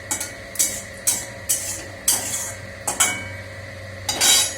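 Fried potatoes going into hot oil in a pan, heard as about seven sharp metallic clinks and clatters at irregular intervals, each followed by a brief faint hiss over a low steady kitchen hum.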